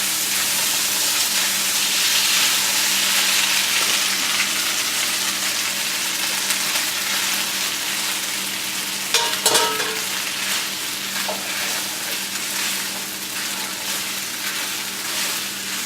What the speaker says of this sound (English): I'm going to toss the pasta in, or udon noodles. I'm going to stir it.